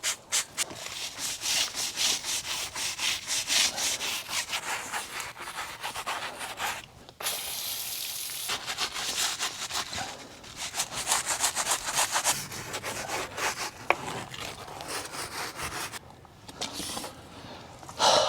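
A brush scrubs a Ford Raptor tire in steady, rhythmic back-and-forth strokes, close and continuous with brief pauses, and no talking.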